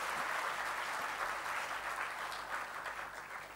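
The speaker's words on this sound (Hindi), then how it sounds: "तो ये आइए आप सब फिर से ताली बजाकर एक बार स्वागत कर देंगे" Steady applause from an audience at a youth camp gathering in Ahmedabad, welcoming a guest; dense, even clapping fills the space throughout, loud and sustained, tapering slightly near the end with no voices over it.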